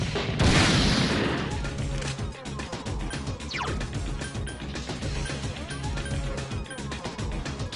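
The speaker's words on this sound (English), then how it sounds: "Cannon!" Cannon attack in the Persona 3 Portable video game: a heavy crashing blast near the start, followed by a busy stretch of battle clatter, impacts and game music.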